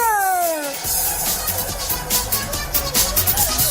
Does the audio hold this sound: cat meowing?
yes